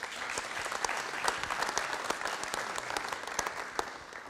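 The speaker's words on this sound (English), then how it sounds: "Let's give them a round of applause." Applause from an audience at a Fresno city council meeting, a steady dense patter of clapping that fills the whole stretch at moderate volume with no voices over it.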